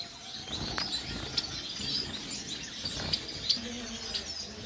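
Finches in a breeding cage, among them Gouldian, owl, star and blue-faced parrot finches, give scattered soft high chirps with brief wing flutters, faint and fairly close against a quiet room hum.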